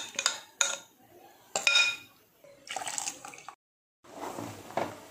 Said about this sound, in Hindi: तो सबसे पहले ये चावल और नट्स का पेस्ट डाल दें।